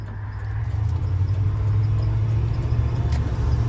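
A 302 V8 in a worn, damaged Ford F-150 runs while driving, a steady low engine rumble with road noise, building slightly and holding a constant hum throughout.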